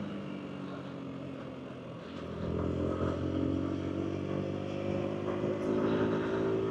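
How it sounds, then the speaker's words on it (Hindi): Motorcycle on a long-distance road ride from Delhi toward Badrinath, its engine a steady close drone mixed with road and wind rumble that grows louder partway through, with no talking. "ये चेक करो पूरा जैसे ट्रैक पे चल रही हो ना बाइक"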